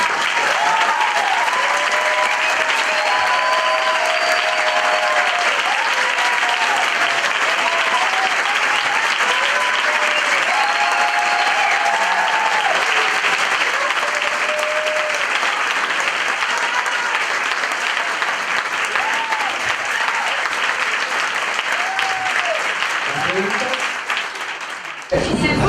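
An audience at a talk gives long, loud and sustained applause that barely wavers, with voices calling out above it before it stops abruptly at the end.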